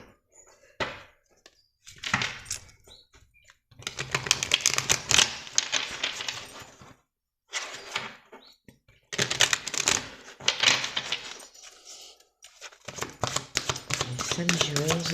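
Tarot or oracle cards being shuffled by hand in repeated bursts of dense riffling and flicking, separated by short pauses, close and fairly loud.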